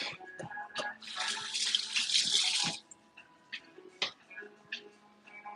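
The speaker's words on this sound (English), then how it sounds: "Should be rinse my hands off." Hands are rinsed under a running kitchen tap for about two seconds, a close hissing splash, with faint ticking and small kitchen clatter before and after.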